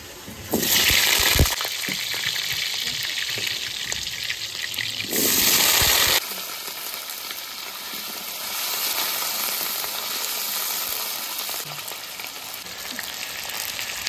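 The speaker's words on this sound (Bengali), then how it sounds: "আলু ভাজা হয়ে গেছে, এখন আমি নামিয়ে নেবো আলুটা।" Potatoes fry in oil in a hot kadai, a constant close sizzle with two louder hissing surges where the oil flares up, settling into a steadier bubbling fry between them.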